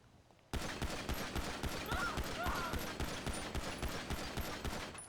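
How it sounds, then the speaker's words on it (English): Rapid gunfire from a weapon in a video game roleplay, emptied into a wall until the magazine runs out, a loud, fast, evenly spaced burst of shots that starts abruptly and runs for about five seconds. "just shoot that wall until the mag's empty"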